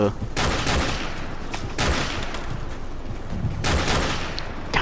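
Gunfire aimed at a sniper in the video game Call of Duty: Modern Warfare, several loud sustained bursts of automatic fire separated by brief lulls.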